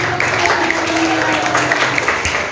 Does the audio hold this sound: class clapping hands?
yes